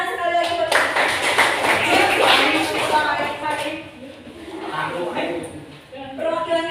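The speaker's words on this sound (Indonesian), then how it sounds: "Tepuk tangan sekali lagi buat" Classroom applause from students praising a group, a burst of clapping that swells, fades and resumes, heard under a teacher speaking.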